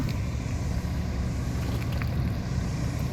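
Classic wooden boat with its motor running, a steady low droning chug close by, mixed with wind rush across the microphone, constant with no pauses.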